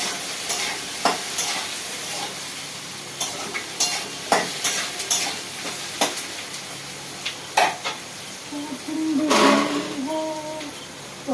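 Chopped okra and tomatoes go into a frying pan with onion, garlic and dried chilli, giving a soft background sizzle punctuated by sharp, irregular knocks and scrapes of a spatula, with a louder burst of stirring near the end; no one talks.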